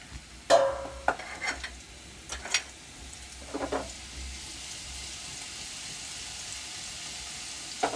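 Chopped green garlic hits hot oil in a pan while cooking methi paratha, giving a few sharp splashes and stirring scrapes, then a soft, steady sizzle that carries on quietly.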